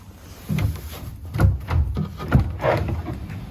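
Pull-out separating toilet drawer in a van conversion pushed in along sturdy runners, several dull woody knocks and sliding rumbles over about three seconds, close and fairly loud.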